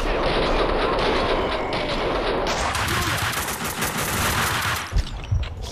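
Gunfire in the video game Max Payne 2, a dense, loud stretch of rapid shots and crashing noise filling the whole moment, ending in a couple of sharper separate bangs.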